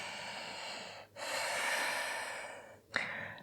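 Deep, steady breathing during a yoga practice, one long airy exhale filling most of the moment between brief pauses, close and clear with no talk.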